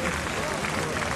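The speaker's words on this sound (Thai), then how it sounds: "แฟนๆก็ปรบมือให้" Fans at a Muay Thai fight applaud in a brief burst of crowd clapping, heard beneath a commentator's ongoing talk.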